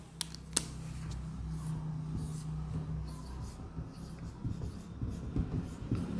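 Marker or chalk writing on a classroom board, faint scratchy strokes and a couple of sharp taps over a low room hum.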